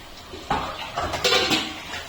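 A metal lid goes onto a pot of fish curry in a home kitchen, giving a few close, sharp clanks and rattles of cookware.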